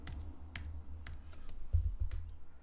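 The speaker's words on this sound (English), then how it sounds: "if you wanted to type something in here" Typing on a computer keyboard, a quiet run of scattered key clicks in an uneven rhythm over a low background hum, nearby and fairly soft.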